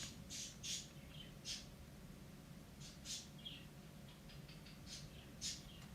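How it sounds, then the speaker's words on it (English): Faint, high bird chirps come in short scattered bursts over a steady low background hum, distant and sparse. "Can just about hear the birds in the background"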